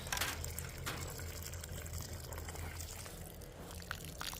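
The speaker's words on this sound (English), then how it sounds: "pour a little water." Water poured from a watering can onto plant roots, a soft continuous splashing trickle close by, with no talk.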